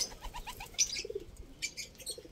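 Pigeons coo softly in a loft where young birds are kept, making a few low, rounded calls with faint chirps and a brief flutter, fairly close and quiet.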